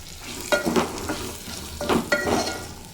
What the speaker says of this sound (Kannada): ಎಣ್ಣೆಯಲ್ಲಿ ಲೋ ಫ್ಲೇಮಲ್ಲಿ ಸ್ವಲ್ಪ ಫ್ರೈ ಮಾಡ್ಕೊಳ್ಳೋಣ